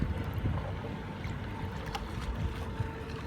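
A CarpMaster fishing bait boat with a Falcon 3542 motor runs at full throttle near the shore. It makes a steady, noisy rush of motor and water spray with wind buffeting the microphone, and no voices.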